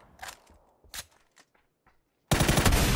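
Gunfire from the video game PUBG: a few scattered clicks and small shots, then a sudden loud, sustained burst of rapid automatic fire that fills the final half second.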